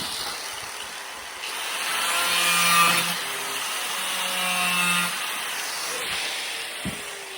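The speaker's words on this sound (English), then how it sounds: "get back my trusty angle grinder, and we just start ripping again" An angle grinder rips through a plastic 5-gallon bucket being cut into a valve box cover, giving a steady, fairly faint whine that swells and eases over several seconds before ending in a small knock.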